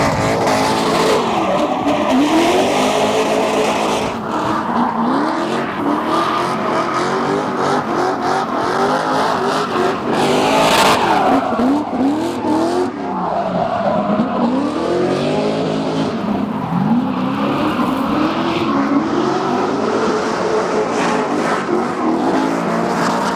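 A rally car runs a course close by, engine revving hard through repeated rising and falling gear pulls with tire scrabbling and skids, loud and continuous throughout.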